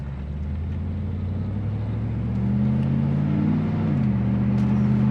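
A 1996 Pontiac Trans Am WS6 engine revs steadily with its pitch climbing, then briefly dips as it shifts gear and keeps pulling, loud and close.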